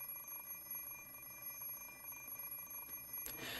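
An alarm clock rings steadily in the Fate/Stay Night visual novel, a continuous electronic tone held for several seconds before a brief louder burst at the end, with no talk over it.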